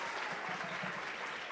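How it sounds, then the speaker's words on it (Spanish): A crowd at a church congress bursts into sustained applause, dense clapping from many hands filling a large hall without pause for the full moment. "Apláudale fuerte, fuerte."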